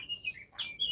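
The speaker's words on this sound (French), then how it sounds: "On va écouter les oiseaux un petit peu." Small birds chirping outdoors, a few high thin tweets and a brief trill close together, fairly faint over quiet background, with no talk.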